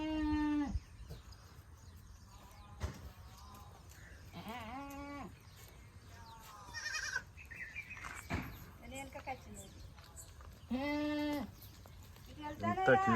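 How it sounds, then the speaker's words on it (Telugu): Young goat kids bleat repeatedly, loud, wavering cries coming close by at irregular intervals, mixed with bird chirps and people talking between the calls. "మేక పిల్లలు ఇవి."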